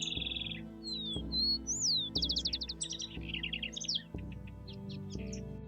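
Varied bird chirps and whistled calls ring out over a steady low background hum at Lihué Calel, a hilly natural park, with rapid trills and tweets following one another without pause.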